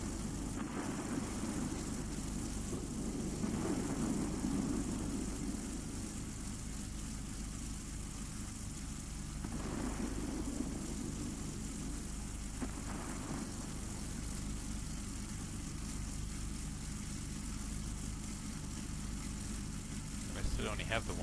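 A propeller warplane engine droning in the World of Warplanes game, a steady mid-level hum running throughout under a talking voice.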